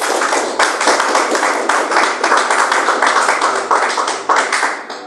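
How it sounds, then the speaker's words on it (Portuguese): A congregation claps for Jesus during a church sermon, dense continuous applause with rapid overlapping hand claps throughout, loud and close. "Palmas para Jesus"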